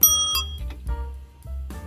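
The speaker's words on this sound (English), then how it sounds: "I got a turtle bell" A turtle bell mounted on a 1960s Schwinn bicycle rings in a few short, bright metallic dings, close and clear, with no voices over it.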